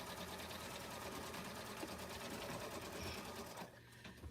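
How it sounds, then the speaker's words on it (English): Embroidery sewing machine stitching a placement line for name badges, a rapid steady mechanical whir of needle strokes running continuously before easing off near the end, fairly quiet and close. "So all I'm doing right now is just stitching a placement line."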